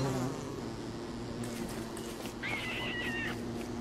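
Bee buzzing in the survival video game Don't Starve, a steady insect drone heard close by over ambient game sounds, with a higher whining tone rising in the second half.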